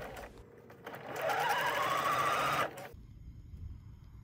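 A sewing machine runs a stitching pass around a fabric scrunchie tube: a short quiet lead-in, then a close, loud, fast whirring burst lasting over a second before stopping abruptly into near silence.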